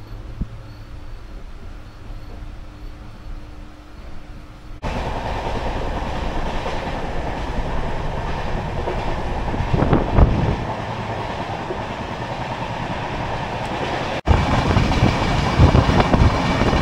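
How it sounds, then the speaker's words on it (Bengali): Kandari Express running at night in light rain, with a steady rumbling roll and rattle from inside the coach that grows louder partway through, along with wind noise, and no voices. "আর ট্রেন চলছে"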